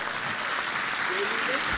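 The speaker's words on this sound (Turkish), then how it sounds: "Kocaman bir alkış rica edeceğim." Applause from a concert audience at a choir performance, a steady dense wash of clapping heard close, with some voices and a brief sung or called tone mixed in.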